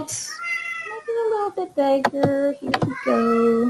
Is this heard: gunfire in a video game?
no